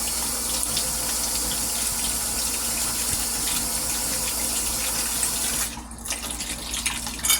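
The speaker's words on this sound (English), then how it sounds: "I'm going to wash this tomato." A kitchen tap runs in a steady, close gush while a tomato is washed beneath it; the flow breaks up and splashes unevenly near the end.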